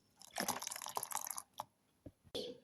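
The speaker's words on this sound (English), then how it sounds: "300 ml of milk" Milk pours into a blender jar holding winter melon, dragon fruit pieces and sugar, making a splashy liquid rush followed by a few short clunks and a final burst near the end.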